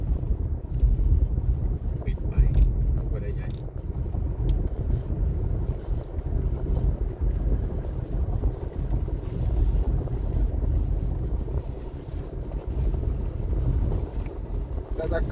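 A small motorboat (bangka) travelling on open water in the Philippines, a steady broadband engine and wind rumble running continuously and fairly loud, with a voice talking intermittently over it.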